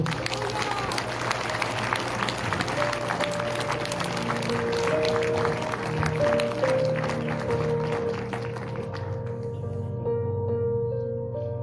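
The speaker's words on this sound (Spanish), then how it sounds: "Dale aplausos al Señor." Church congregation applause, a steady wash of clapping and crowd noise under sustained music tones, tailing off near the end.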